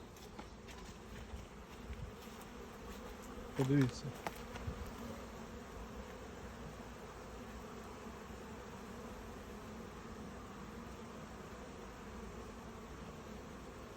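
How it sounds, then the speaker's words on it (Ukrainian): A steady, faint hum of many honeybees buzzing throughout an apiary, with a brief voice and a few closer buzzes passing early on. "Пасіка гуде."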